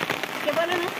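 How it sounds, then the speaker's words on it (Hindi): Steady rain falling in a Himalayan mountain village, a continuous soft patter and hiss throughout, with faint voices or tonal sounds briefly rising over it. "बारिश तो बंद ही नहीं हो रही भाई"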